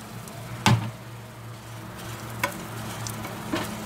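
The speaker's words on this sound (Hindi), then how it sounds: "हम पैन में थोड़ा सा ऑयल लेंगे, बहुत थोड़ा सा, और ये अनियन डालेंगे।" Onions frying in a small amount of oil in a pan for a lamb rib curry, a soft steady sizzle with a few sharp utensil knocks against the pan, close and alone.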